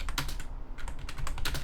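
Fast, steady keyboard typing as a server name is entered during a Nitrado server setup for Rust on console, with dense key clicks running continuously throughout and no talking.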